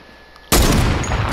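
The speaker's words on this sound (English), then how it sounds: "I think it said gunfire." Gunfire in the Fortnite battle royale video game bursts in suddenly after a quiet moment, a loud, dense rattle of shots that carries on to the end.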